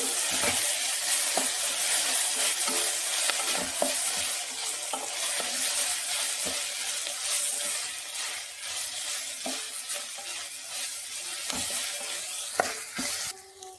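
Ginger garlic paste with curry leaves frying in hot oil, a steady close sizzle with scraping spoon stirs and scattered pops throughout, no voices.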